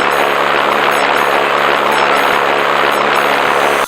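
A 1917 German Fokker DR-1 warplane engine in the Star Trek: Judgment Rites game, droning steadily and loudly without a break, with no talk over it.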